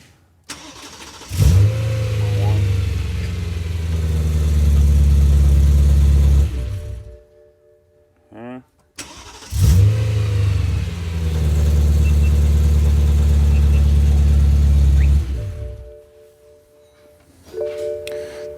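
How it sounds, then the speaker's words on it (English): A BMW engine, being tuned on a 1M or M3, cranks and fires up twice, each time settling into a loud, steady run for about five seconds before shutting off, with a pause and brief chime-like tones between the starts. "Dump the bad cable, ignition back on, start the motor, count to 5 and turn off."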